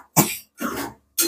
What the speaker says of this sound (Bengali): নিজেই কেসে যাচ্ছে, ওর বলছে হাঁচি কেসে হবে।